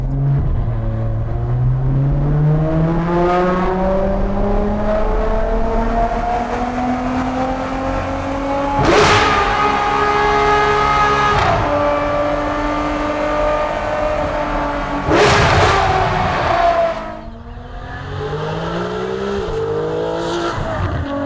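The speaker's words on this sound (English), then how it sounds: "I found a brand new musical instrument. It's called a Ferrari 599 GTO." A Ferrari 599 GTO V12 on a launch drive, its engine howling loudly as the revs climb through repeated upshifts, each marked by a brief crackle, before easing off into a lower drone at close range.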